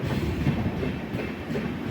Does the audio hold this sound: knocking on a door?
no